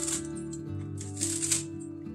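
Kitchen scissors snip through folded mustard green leaves in a quick run of crisp cuts, close to the microphone, with rustling leaves and no talking.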